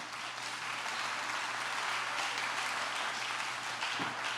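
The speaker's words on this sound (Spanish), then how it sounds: "quiero que la audiencia por lo menos dé en este momento un aplauso para saber si están despiertos" Audience applause fills a church hall during an interactive panel, steady dense clapping from a sizable crowd that continues for several seconds without talk.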